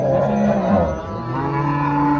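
A cow moos in a long, low, drawn-out call at a busy cattle market, near and fairly loud, with faint crowd murmur behind.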